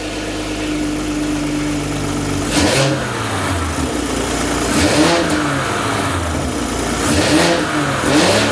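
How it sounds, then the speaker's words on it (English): Toyota Supra A90 fitted with an Eventuri carbon fiber intake, idling steadily before three sharp throttle blips that rev up and fall back, loud and close with no talk. "not only does this EVENTURI carbon fiber intake look incredible on this A90 Supra, but it also sounds unbelievable"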